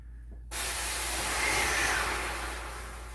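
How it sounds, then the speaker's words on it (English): Steam from French bread baking in a home oven bursts out in a loud, close, steady hiss after a brief quiet moment, holding strong for several seconds and then easing off slightly, with no talking. "Now watch out, it's gonna steam."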